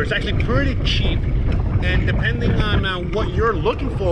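Gusty wind buffets the microphone in a continuous low roar while someone talks over it outdoors in Mérida, Mexico.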